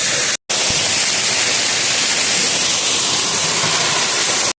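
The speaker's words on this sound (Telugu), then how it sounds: "ఇదైతే బాగా పెద్ద వాటర్ ఫాల్ అని చెప్పలేము ఒక మినీ వాటర్ ఫాల్ అని చెప్పుకోవచ్చు" A small mini waterfall in the hills pours in a steady, loud broadband rush of falling water close by, broken only by a brief dropout near the start.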